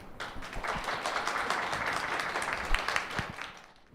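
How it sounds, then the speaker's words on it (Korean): Seated audience at a Korean feminism talk claps to welcome the next speaker, a dense even burst of applause at moderate distance that holds for a few seconds, then fades toward the end. "여러분들 박수로 맞아 주시기 바랍니다"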